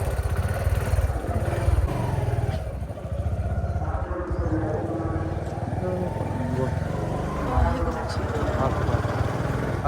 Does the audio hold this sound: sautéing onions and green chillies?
no